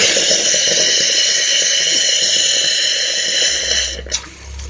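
Water runs steadily from a tap into a wash basin in a home, a loud, close hiss that stops abruptly near the end with a faint clunk.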